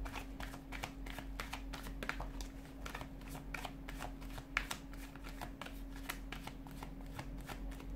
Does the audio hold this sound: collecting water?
no